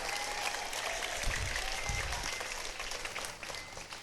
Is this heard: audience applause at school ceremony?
yes